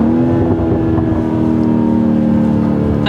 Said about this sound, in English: There's something about this engine too. This engine just sounds so good.